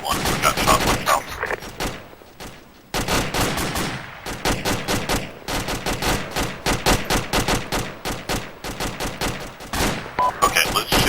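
Rapid bursts of gunfire during a team-versus-team match in a village, loud and close, with dense repeated shots and fusillades running almost continuously, a brief lull near the middle.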